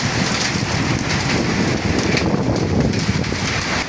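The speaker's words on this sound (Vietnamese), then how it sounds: "Không biết mưa gì mà to như thế này luôn à." Heavy storm rain at a farm, lashed by strong wind, makes a loud, unbroken hiss and roar of water on surfaces with gusty swells, no voices present.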